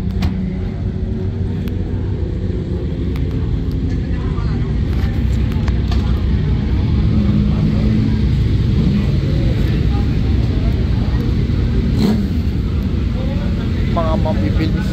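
R1 1000cc motorcycles race past at the Jarama circuit near Madrid, a continuous loud engine roar with overlapping passes and rumble throughout, over steady crowd and track noise.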